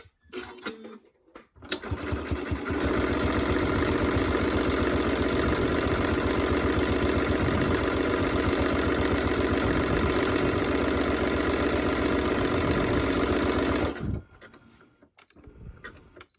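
A sewing machine runs steadily for about twelve seconds, stitching a zig-zag to serge the edge of quilt binding. The hum is close and continuous, and it stops abruptly at the end.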